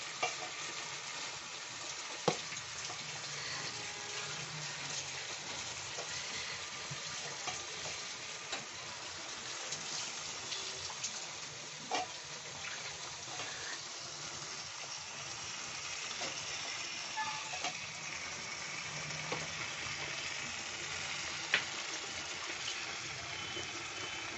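Chicken pieces for a tomato-sauce chicken dish sizzle and fry steadily in a pan, with occasional stirring clatter and scrapes over a constant broadband hiss, close and moderately loud with no talking.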